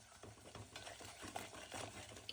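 Ground masala paste being sautéed over a low flame in a pan for village-style mutton curry, giving a soft, quiet sizzle with gentle rhythmic stirring scrapes throughout.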